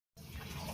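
Water starting to heat in an electric kettle under repair, a soft, steady rushing hiss that begins abruptly after a brief silence and carries on evenly.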